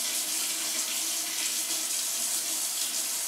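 Tap water runs steadily into a kitchen sink while dishes are washed, a continuous close hiss and splash with no pauses and nothing else over it.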